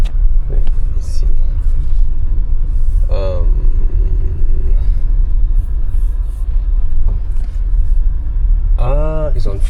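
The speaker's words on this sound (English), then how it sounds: "I can hear the engine firing up to charge the car." A car's engine runs to charge its battery in forced charge mode, giving a steady, close, low rumble throughout, with brief tonal chirps and other sounds rising above it.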